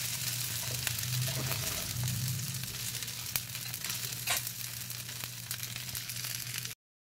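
Sabudana thalipeeth frying in oil in a pan, giving a steady close sizzle with a low hum underneath that runs unbroken for several seconds before cutting off abruptly.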